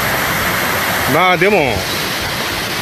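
A waterfall at Ikuta Otaki roars as a constant broad rushing wash from start to end, loud and steady, with someone briefly speaking over it partway through.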